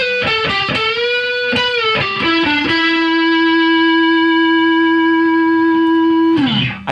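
An electric guitar plays through a modded Boss DS-1 distortion pedal, with a few choppy notes and then a long, loud, fuzzy sustained note that bends downward before cutting off.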